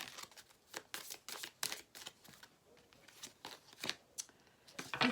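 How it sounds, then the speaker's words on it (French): Cards shuffled for a card reading, a series of short riffling bursts at irregular intervals, close but soft, with no talk. "Alors, on va prendre d'autres cartes."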